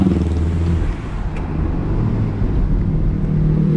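Mini Cooper JCW convertible with a JCW exhaust, its engine giving a deep continuous rumble with slight rises in revs, steady and close throughout without speech.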